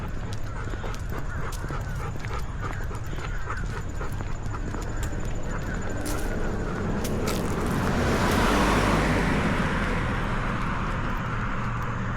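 Light road traffic on a street during a walk with a service dog, a steady wash of vehicle noise that swells as one car passes close by toward the end.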